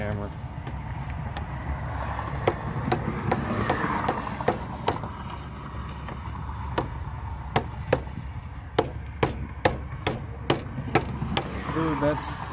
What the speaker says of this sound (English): Where's my hammer? I brought a hammer.